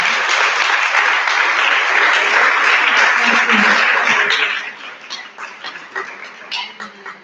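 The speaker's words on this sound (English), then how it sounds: "a big applause" Audience applause for the speakers at a matter physics conference session, dense and loud for about four and a half seconds, then thinning into scattered claps and murmurs as it fades out.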